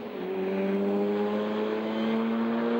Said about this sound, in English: That's not a healthy Lotus, is it at all?